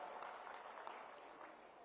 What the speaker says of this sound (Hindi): जोरदार ताली बजा करके इनका हम धन्यवाद करें